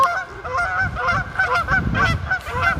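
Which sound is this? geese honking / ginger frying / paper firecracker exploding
geese honking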